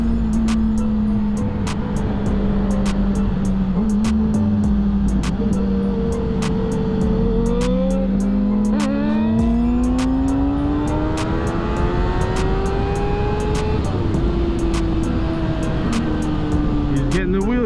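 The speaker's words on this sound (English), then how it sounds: "Or no, these are first gear power wheelies" A Mustang 5.0 doing first gear power wheelies, its engine revving and droning steadily with rising and falling pitch sweeps, loud and continuous, with a voice talking over it.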